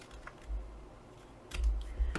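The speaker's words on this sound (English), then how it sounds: "you're going to take your scissors and you're just going to cut" Scissors snipping through cardstock while making a pocket tag, with a few quiet, crisp cuts spaced apart, the strongest ones near the end, alone without talk.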